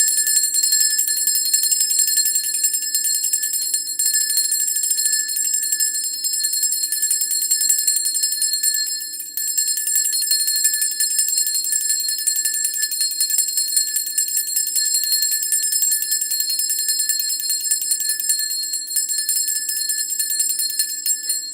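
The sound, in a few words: small bell with a rose on it ringing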